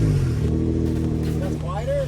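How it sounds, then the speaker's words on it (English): A Nissan 350Z fitted with valved sleeper mufflers revs with its valves shut, giving a muffled, droning exhaust note with a rising rev near the end, while people talk over it close by. "I'm gonna let him rev it up a little bit, then I'm gonna hit the switch"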